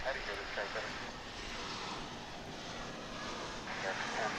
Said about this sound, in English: There it is in all its glory.